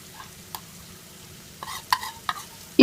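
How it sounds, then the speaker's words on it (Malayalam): A prepared sauce goes into a hot pan after scattered spatula clinks and light sizzling, ending in a sudden loud sizzling splash. "ഇതിലോട്ട് നമ്മൾ നേരത്തെ തയ്യാറാക്കി വെച്ചിട്ടുള്ള സോസ് ഒഴിക്കാം."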